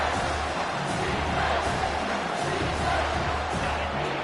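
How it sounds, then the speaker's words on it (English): Home crowd at a football game roars steadily while the defense tries to get off the field on third down, a dense, continuous wash of cheering that holds at an even level throughout. "Here comes this home crowd as the defense tries to get off the field on 3rd down"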